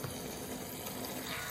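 Red liquid poured into a slime mixture, giving a steady, close, continuous wet pouring sound with no talk over it.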